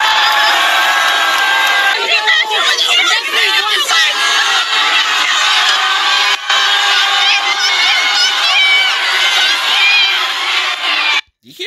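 A large crowd at a university protest at Ohio State shouts and yells loudly and continuously, with overlapping voices and chanting bursts, before cutting off abruptly at the end.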